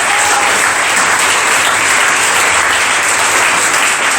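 Church congregation applauding and cheering for Jesus at a worship service, producing steady, loud, continuous clapping that fills the whole stretch with no pause.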